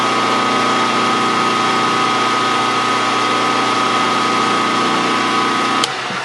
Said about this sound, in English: So I just come in here and do a center drill.